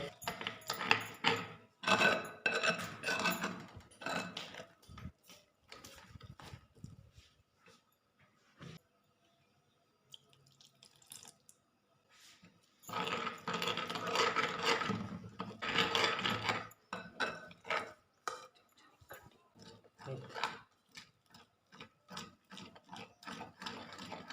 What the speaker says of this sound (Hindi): पानी का 1 कप डाल के बेसिकली आपने इसको घोलना शुरू करना है।